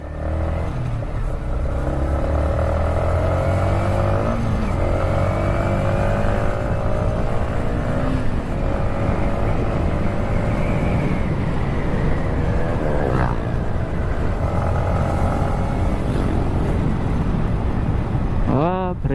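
A Yamaha MT-15 motorcycle being ridden, with a steady engine drone throughout and rising revs toward the end, mixed with wind and road noise.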